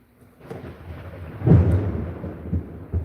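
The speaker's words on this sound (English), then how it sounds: "That was a thunderclap." A thunderclap during a rainstorm, a deep rumble that swells into a loud crack and rolls on, with a smaller boom near the end, heard indoors with no talk.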